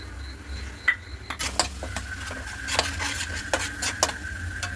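A utensil stirs ginger-garlic and onion paste in oil in a pan while cooking a tiger prawn masala, giving soft scraping and sizzling with a few sharp metallic clinks against the pan, close by and fairly quiet.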